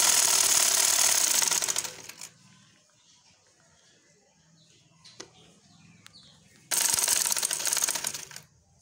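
A sewing machine stitches along the very edge of a dupatta while attaching lace, running in two loud mechanical bursts with a quiet pause between them.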